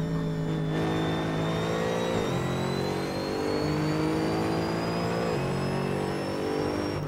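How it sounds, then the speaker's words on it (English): Mercedes-Benz SLS AMG GT3 V8 engine in the Assetto Corsa racing game at Spa: a loud, continuous roar that climbs in pitch through the revs, with two sharp drops at upshifts. "Just listen to that V8 roar."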